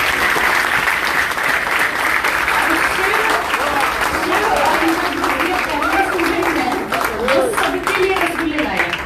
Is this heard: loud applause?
yes